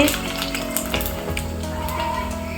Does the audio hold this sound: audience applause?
no